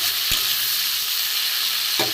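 Botboti beans and potatoes with salt and turmeric fry in a pan, giving a steady close sizzle broken by two sharp knocks of a spatula or ladle.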